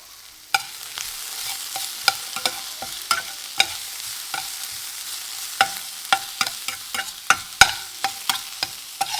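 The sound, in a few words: sautéing food in a pan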